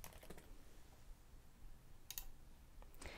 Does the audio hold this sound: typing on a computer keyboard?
yes